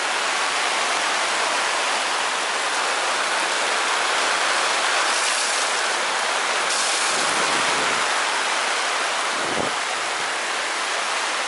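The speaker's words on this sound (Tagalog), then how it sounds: "Kaya mga lods ganyan kalakas ang ulan." Heavy rain pours steadily in a dense, loud hiss with no pause, constant throughout.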